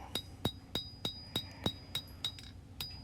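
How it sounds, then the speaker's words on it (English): Blacksmith hammering hot steel over the edge of an anvil, about ten evenly spaced sharp ringing strikes in a steady rhythm, each with a bright metallic ping, close and clear. "Using the hammer over the edge of the anvil."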